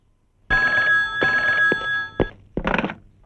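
A new cell phone rings loudly nearby with a bright electronic trill in repeated bursts, followed by a few clunks as it is handled.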